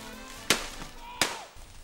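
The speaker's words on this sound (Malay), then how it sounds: "Tembakan kedengaran tidak berhenti-henti dari arah Melekik dari jam 6 petang hingga 8 malam" Two sharp gunshots crack out about a second apart in a historical dramatization of the Naning war, each a loud, sudden bang with a short decay over a quiet background.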